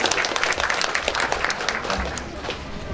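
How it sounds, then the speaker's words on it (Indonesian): Applause from parents and audience at a character-building workshop, a dense clatter of many hands clapping steadily for about three seconds, with some voices mixed in. "Tepuk tangan buat orang tua yang hebat."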